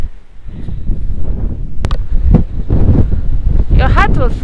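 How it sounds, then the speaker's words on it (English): Strong wind buffets the microphone in heavy, continuous gusts in the desert near San Pedro de Atacama, Chile, with a brief voice and some rustling near the end. "So windy"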